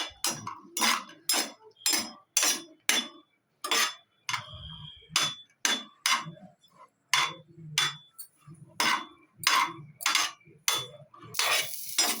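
Raisins frying in ghee in a pan, with repeated sharp clinks of a metal spoon stirring and scraping against the pan in an uneven rhythm, close and fairly loud, with faint sizzling between strokes.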